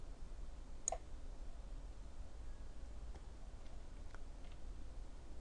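A computer mouse clicks during CAD drafting work, with one sharp, close click standing out against a faint hiss and a few softer, sparse ticks after it.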